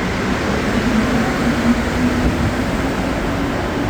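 A Montreal metro train at the Frontenac station platform rumbles steadily and loudly with a continuous low roar and faint tonal whine, and no one speaks.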